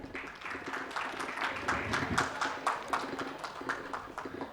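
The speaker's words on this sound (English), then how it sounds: "Can we all have a round of applause, ladies and gentlemen?" Steady applause from a conference audience at a university education event fills the room, dense overlapping claps holding at an even level throughout with a few faint voices underneath.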